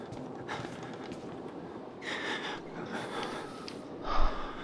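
The player character in the Outlast horror video game breathes heavily, several loud ragged gasps and snorting inhalations in uneven rhythm, close up.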